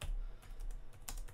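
A few quick taps on a computer keyboard sound close by in two short clusters, light and clicky over a low room hum during a live NBA trading card break.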